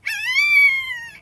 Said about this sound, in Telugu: కుక్క పిల్లలు ఏడుస్తున్నాయి.